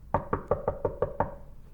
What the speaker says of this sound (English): He made his way down to the staff room and knocked.